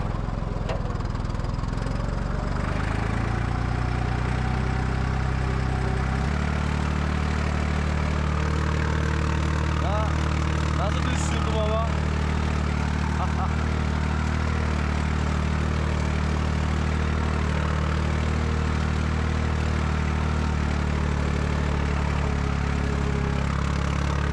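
A tractor engine drones steadily while plowing a field with a three-furrow plough, a continuous low mid-pitched rumble that holds loud and even for the whole stretch, with no voices over it.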